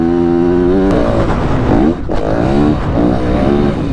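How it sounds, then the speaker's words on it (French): A Yamaha WR250F enduro motorcycle runs on a motocross track, its engine loud and close, revving up and down with a sharp gear change partway through. "on s'en va s'amuser dans une piste de motocross avec un bike enduro"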